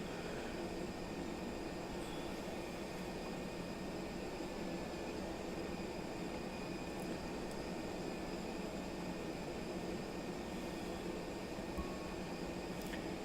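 An Airbus A320 taxiing to the runway in a flight simulator hums with a constant, even engine drone and faint whine, steady and unchanging throughout.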